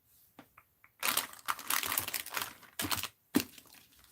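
Paper rustles and crinkles up close as scissors fussy-cut a paper doll, in short irregular bursts of handling and snipping with brief quiet gaps.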